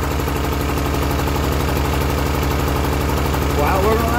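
A repaired Stuart Turner engine runs steadily at idle with a throbbing, even mechanical beat, loud and close, picking up slightly near the end.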